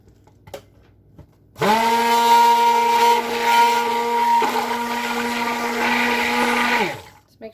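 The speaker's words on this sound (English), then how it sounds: "Stick blender in here." A stick blender mixing cold process soap batter whirs loudly and steadily for several seconds, its pitch dipping briefly midway, then cuts off.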